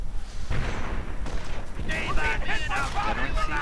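Gunfire and explosions from a World War II real-time strategy game battle, with a sniper firing among other guns, heard as dense repeated booms and cracks under an excited commentary voice.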